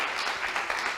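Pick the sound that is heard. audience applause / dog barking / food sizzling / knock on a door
audience applause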